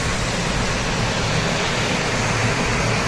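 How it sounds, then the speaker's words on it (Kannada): Water rushes through the gate of Gundal Dam, fed by the Kaveri, in a loud, unbroken roar of broadband noise that stays steady throughout, with no voices. "ನೀರು ಸೌಂಡ್ ಕೇಳಿಸ್ತಾ ಇದೆ ನಿಮ್ಗೆ?"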